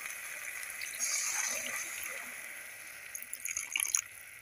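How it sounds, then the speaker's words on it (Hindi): Water is poured into a pan of cooking sweet tomato chutney, a steady splashing and sizzling hiss with bubbling spatters toward the end. "अब मैं इसमें आधा कप के लगभग इसमें पानी ऐड कर दूँगी।"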